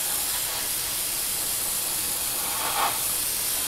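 Airbrush spraying steel paint over the engine area of a 1/48 Academy SU-27UB Flanker jet model, a steady close hiss throughout with a small swell near the end.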